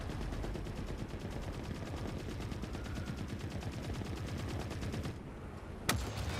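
Enemy heavy machine gun fire in the Forever Winter video game rattles in a steady, rapid stream of shots for several seconds, loud and continuous, ending just before a sharp single crack.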